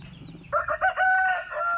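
A rooster on a farm crows loudly and close, one drawn-out cock-a-doodle-doo rising after a moment of quiet background.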